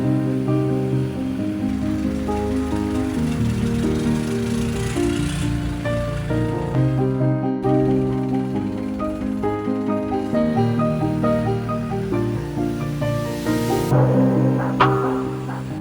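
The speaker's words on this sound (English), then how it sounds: "Riding along these canals on a traditional long-tail boat" A steady engine drone with harmonic hum runs throughout as a traditional long-tail boat chugs along a Bangkok canal, with water and wind noise beneath and no talking.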